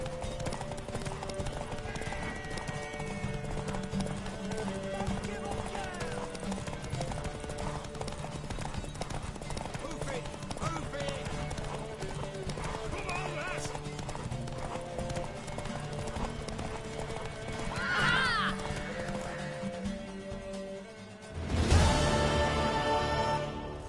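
Horse hooves clip-clop steadily through a video game scene, with a brief neigh or whinny near the end over continuous background music and ambience.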